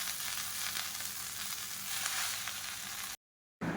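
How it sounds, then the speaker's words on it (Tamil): Fresh mint and coriander leaves sautéing in a pan for a mint thokku give off a steady broad sizzle that cuts out briefly near the end and then returns, with no voices. "இப்போ இது கூடவே ஒரு கைப்பிடி அளவுக்கு மல்லி இலையும் சேர்த்து நல்லா வதக்கிக்கலாம்"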